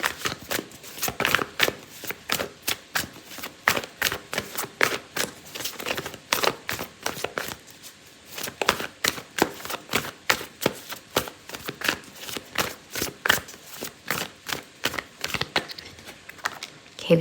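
Oracle cards are shuffled by hand in quick, rhythmic riffles and flicks, a long run of crisp papery bursts with brief pauses, close and fairly quiet.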